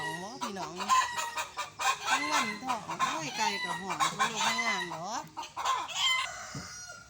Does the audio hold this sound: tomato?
no